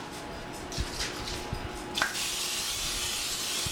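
Cooking spray hisses onto a George Foreman grill set to high, a few soft taps and handling noises first, then a sharp, sustained spray burst that continues to the end.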